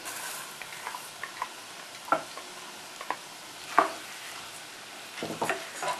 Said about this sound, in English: Stir it very well so that all the rice grains are coated with the oil.